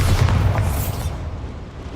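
A Bombarda blasting-spell explosion in Hogwarts Legacy, one loud deep boom whose rumbling tail fades out over about two seconds.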